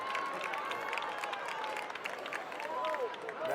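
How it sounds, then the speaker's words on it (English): Crowd at a Dublin high school football game, a broad murmur and cheer from spectators in the stands, moderately distant, with a commentator talking over it. "Dublin crowd coming up over here on that."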